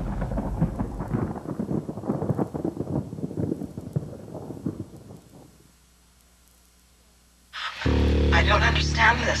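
A film trailer storm rumbles with rolling thunder and rain in a dense, crackling wash that fades to near silence, then a sudden loud, deep boom cuts in at the end.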